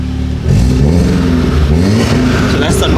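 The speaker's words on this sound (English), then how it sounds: "So that's the normal rev." VW Golf 7R fitted with an induction kit and downpipe revved while stationary, the exhaust rising sharply after a brief idle and falling back, loud and close.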